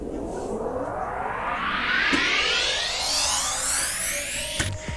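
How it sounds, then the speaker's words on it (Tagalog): A rising synth sweep climbs steadily in pitch over several seconds, building tension with a whooshing, brightening swell before a sharp hit at the end. "Tawag sa kanya riser."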